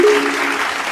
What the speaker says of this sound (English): Clap it up for yourself, man.